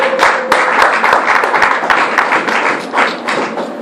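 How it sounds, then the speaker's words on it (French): Church congregation applauding for a brother during a service, loud, close, uneven clapping from many hands with sharp individual claps standing out throughout. "Acclamons pour notre frère"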